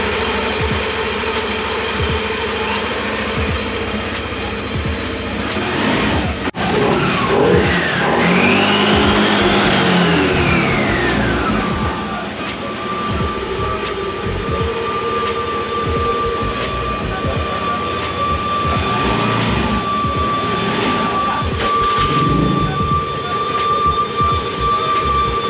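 An older Yamaha Nmax scooter with a thin-smoke fault runs during a sound check after its battery cable and ECU socket are refitted: a steady engine hum with scattered clicks, and a sweeping rise-and-fall whine midway.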